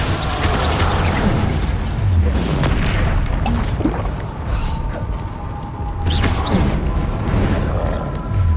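Blasting spell explosions in the Hogwarts Legacy video game: heavy, continuous booms and crashing bursts fill the whole stretch at loud, close level, with debris-like clatter between the blasts.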